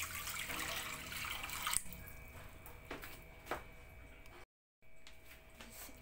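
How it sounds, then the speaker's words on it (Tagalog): Water pours into a cooking pan while preparing a budget fish dish, starting as a loud, bright splashing stream that cuts off and gives way to quieter dripping and small kitchen sounds. "Lagyan natin ng tubig."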